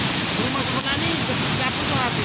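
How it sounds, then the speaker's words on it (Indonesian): Floodwater from an overflowing river rushes through a village in Nagekeo, East Nusa Tenggara, after heavy rain, a loud constant roaring wash with faint voices beneath it. "Banjir bandang menerjang desa Lokalaba, Kabupaten Nagekeo, Nusa Tenggara Timur."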